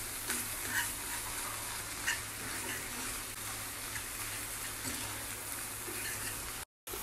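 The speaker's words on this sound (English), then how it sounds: "Then I add my beef, and I'm gonna just stir that in." Beef being stirred into hot seasoning of sweet pepper, tomato, hot pepper and chopped onion in a pot, with a loud continuous sizzle and frying hiss plus occasional scraping stirs.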